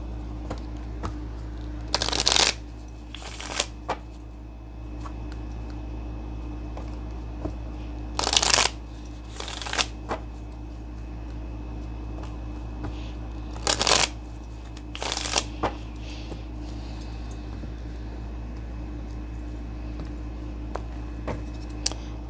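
A Gypsy Oracle (Sibila) card deck being shuffled by hand in several short, crisp bursts separated by pauses, close up over a steady low hum.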